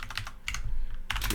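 A computer keyboard clicks in short bursts as a search number is entered during a coding lecture, with a brief pause between two clusters of close, crisp keystrokes and no voices.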